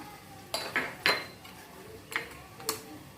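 Aloo rava tikki mix of boiled potatoes, lemon juice, pepper powder and chopped coriander being stirred in a bowl, with several sharp clinks and scrapes of a spoon against the dish at an uneven pace, close and moderately loud.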